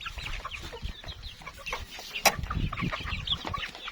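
Burmese chickens cluck in a dense, busy chorus in an evening garden, with scattered calls overlapping throughout and one sharp, louder burst partway through.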